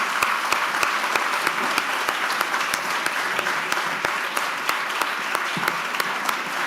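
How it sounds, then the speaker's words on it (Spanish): Audience applauding at a television award gala on stage, a steady sustained wash of many hands clapping at moderate loudness for the whole stretch, with no voices over it. "Un aplauso, por favor."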